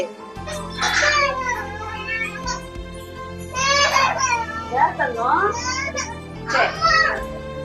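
Children crying and wailing in a home setting, several close, loud sobbing bursts with pitch-bending cries, separated by short gaps, with a steady background hum throughout.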